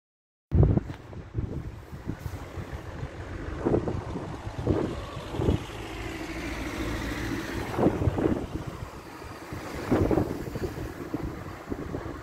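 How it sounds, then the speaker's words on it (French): Wind blows steadily across the microphone outside a castle, rumbling and gusting louder at moments, with a low boat-like drone underneath. "Alors, il y a pas mal de vent."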